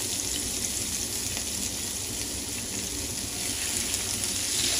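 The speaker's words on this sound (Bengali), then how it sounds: "পেঁয়াজটা একটু হালকা লাল লাল করে ভেজে নেব।" Chopped onion sizzling in hot oil in a pan for a shrimp and taro (kochur mukhi) dish, a steady dense hiss of frying that carries on evenly throughout with no talking.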